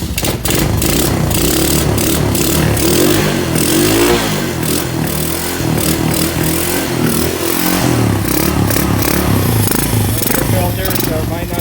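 A Honda TRX200SX quad engine running steadily with a little throttle held on, a loud close rough putter with some clatter, while a person talks over it.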